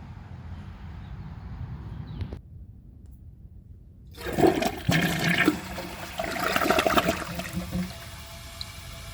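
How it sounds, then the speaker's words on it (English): A Mainstays high-efficiency toilet being flushed in a test, a loud, short rush and gurgle of water after a brief quiet pause, with tank refill trickle continuing alongside. "let's give this a flush and see how it does on tests"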